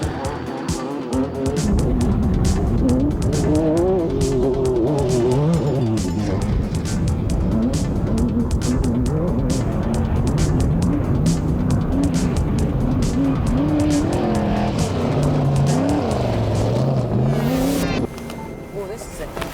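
Race cars from a children's program roar continuously around a twisting course, engines revving loudly with tire squeals and skids, steady and close throughout.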